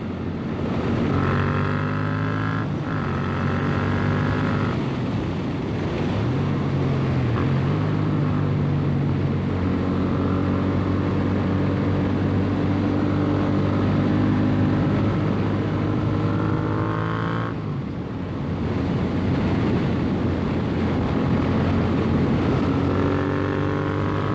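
A 2021 Yamaha MT-07 motorcycle with an aftermarket exhaust and a Power Commander V tune being ridden, its engine droning steadily and loudly with rising and falling revs through gear changes, a brief dip near the end, and no talk.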